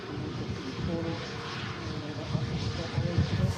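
A Flybe Dash 8 turboprop on approach to Manchester Airport on a windy day gives a steady, droning engine rumble with a low propeller throb, fairly near and continuous, with voices talking under it.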